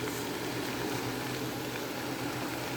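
Kale greens simmering and cooking down in a pot, giving a steady, even bubbling hiss with a low hum underneath, constant and fairly close throughout with no talk.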